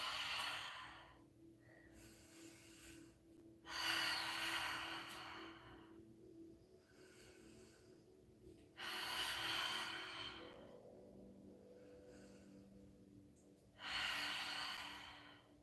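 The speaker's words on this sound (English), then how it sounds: "Exhale through your mouth" Three loud, breathy exhales through the mouth during a morning vinyasa yoga flow, each lasting a second or two and separated by quieter gaps, with soft breathing and faint background hum in between.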